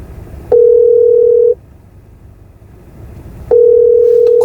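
Steady ringback tone from a telephone calling a business: two long, loud, even beeps about a second each, separated by a pause of near silence, with no voices over them.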